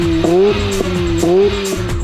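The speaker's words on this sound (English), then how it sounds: "not only does it breathe better, it actually sounds like a rotary" A loud Mazda RX-8 rotary engine with an open, raspy exhaust revs and shifts, its tone rising and falling in repeated pulls, close and dominant.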